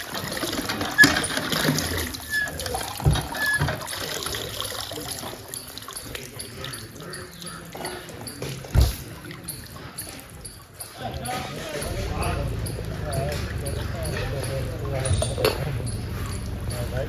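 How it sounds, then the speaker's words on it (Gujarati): A hand pump clanks in irregular strokes, then water gushes and splashes steadily, with voices in the background. "આપણે આને કહેવાય ડંકી આ રીતે પાણી આવતું"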